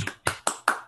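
Scattered claps from a remote online audience after a Princeton lecture on fusion pilot plants, four or five sharp bursts close to the mic, fairly loud with no talk.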